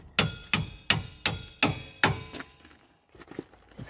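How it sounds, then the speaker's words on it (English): Six sharp hammer blows drive a suspension bolt out of a car's front suspension arm, struck in a steady rhythm close by, followed by a few lighter taps. "Hammer the bolt through."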